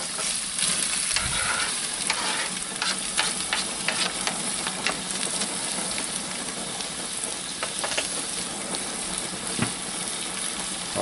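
Onions and garlic fry for a brewhouse-style goulash in a hot pan, with dense continuous sizzling and crackle and frequent stirring scrapes, heard up close and loud throughout without any voices.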